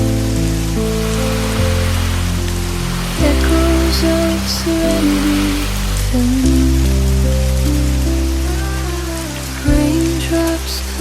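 Steady rain falls at a seaside cafe on a rainy day, a soft continuous patter spread under loud, sustained music, with a voice speaking briefly over it.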